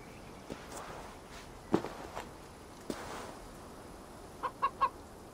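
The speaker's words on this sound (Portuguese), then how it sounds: "Só vejo uma galinha." In Assassin's Creed Valhalla, during the Ostara festival, a chicken gives three quick clucks near the end of a quiet stretch. Soft footsteps and faint ambient noise run underneath, with no talking.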